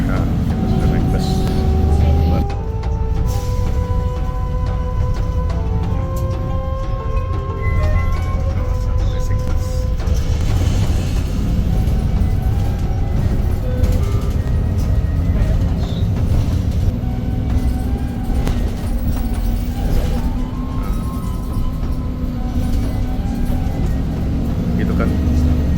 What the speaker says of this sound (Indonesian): Nah, kita sudah naik bus.